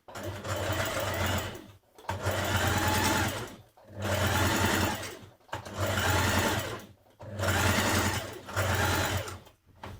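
A sewing machine understitching a dress pocket seam, running in five steady bursts of rapid stitching separated by short pauses, close and clear, with faint talk in the background.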